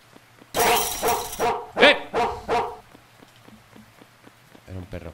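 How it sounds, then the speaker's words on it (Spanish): A dog in a video game barks in a quick burst of loud yaps, several in a row, then stops, leaving a faint patter and a brief sound near the end. "Era un perro."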